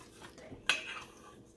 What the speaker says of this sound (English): As we mix this in, as we get it mixed up real good